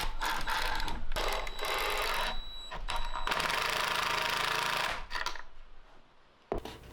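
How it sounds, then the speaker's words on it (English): Screws driven into a wooden kids' step stool with a power drill, several sustained loud whirring bursts with brief pauses between them, close and uninterrupted by talk. "ran in the last of the screws to finish the assembly"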